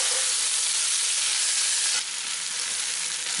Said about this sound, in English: You want to let the onions get somewhat caramelized